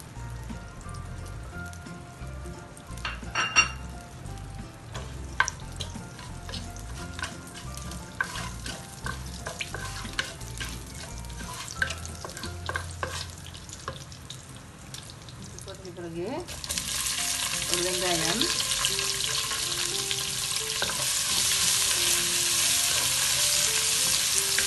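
Fenugreek and cumin seeds fry in oil in a clay pot for fish curry, making a close sizzle with light clinks early on. Partway through, a louder, broader hiss takes over and continues to the end.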